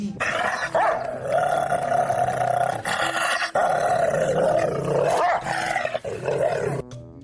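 Dog growling and roaring loudly and continuously at close range in a Tamil short film, with harsh snarling bursts and brief pauses between them.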